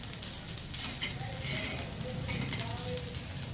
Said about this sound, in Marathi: असं बारीक गॅसवर आपल्याला थोडंसं परतून घ्यायचं याला